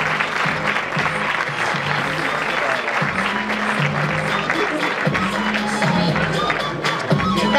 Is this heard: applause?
yes